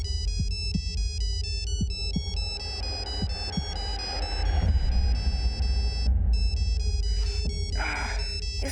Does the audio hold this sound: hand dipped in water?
no